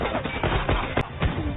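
Gunfire in a movie gun battle between cops and a gang, dense cracking shots over a loud muffled soundtrack, bursts landing close together in quick succession.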